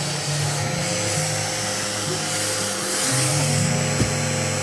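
A Mini Bee mini desk vacuum runs with a continuous close whirring hum, its pitch wavering slightly as it works across a desk.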